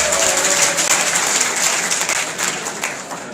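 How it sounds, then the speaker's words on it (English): A warm round of applause from the audience at a university convocation inter-faculty debate, loud and dense with many hands clapping close by, easing slightly toward the end. "please, another warm round of applause"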